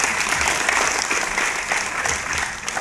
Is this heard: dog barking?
no